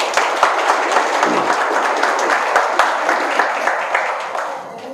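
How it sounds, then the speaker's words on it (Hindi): Audience applause at a Hindi-language network marketing training session, a dense sustained wash of many hands clapping together that holds steady for about five seconds before easing slightly at the end. "चलिए एक बार अपने लिए जोरदार ताली बजाएं।"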